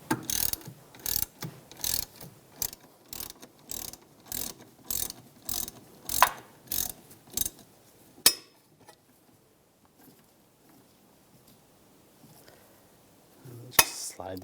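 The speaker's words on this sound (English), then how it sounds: "Using a 7mm hex socket, we're going to take the two caliper bolts out." Hand ratchet with a 7mm hex socket backing out the caliper bolts on a 2001-2006 BMW 325Xi rear brake, about a dozen quick loud clicking bursts in steady rhythm, then near quiet with a couple of sharp metallic knocks.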